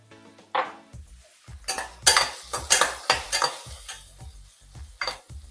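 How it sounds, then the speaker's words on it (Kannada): Sliced onions with a pinch of salt fry on a medium flame for capsicum bath, with a steady run of sharp spatula scrapes and taps against the pan over a soft sizzle, close up and with no voices. "ಮೀಡಿಯಂ ಫ್ಲೇಮಲ್ಲಿ ಇಟ್ಕೊಂಡು ಫ್ರೈ ಮಾಡಬೇಕು"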